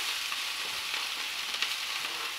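Thin pieces of yellowfin tuna fry in a pan with a steady, close hiss of sizzling oil, dense and continuous with small pops throughout.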